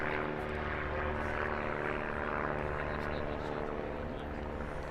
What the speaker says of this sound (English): we're quite near to Blackpool Airport as well, as you can tell by the plane above us